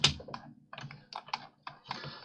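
Computer keyboard keys pressed while working in SketchUp: a short run of crisp, close taps, roughly eight separate clicks at irregular spacing, with quiet gaps between them and no speech.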